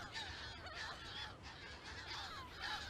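Audouin's gulls call at a breeding colony in the Ria Formosa, Portugal, with harsh overlapping honking cries repeating over a steady background murmur, moderately distant and fairly faint.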